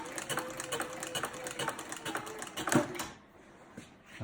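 Cobra 4 sewing machine buckstitching leather, a quick rhythmic clatter of needle strokes with a heavier thump near the end before the motor stops and goes quiet, recorded close without talk.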